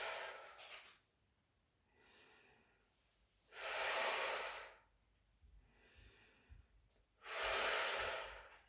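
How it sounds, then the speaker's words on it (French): Deep belly breaths for singing, with slow, airy inhales and exhales swelling and fading in a steady cycle, close and breathy, two of them especially loud. "Je vous montre juste respiration par le ventre"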